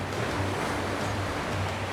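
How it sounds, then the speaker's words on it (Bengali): Sea waves wash onto the shore at Jeddah, Saudi Arabia, a continuous broad surf roar with soft low swells, fairly faint and steady throughout, with no voices over it. "এই যে দেখেন এই যে এখানে ঢেউ আশ্রয় পড়তেছে"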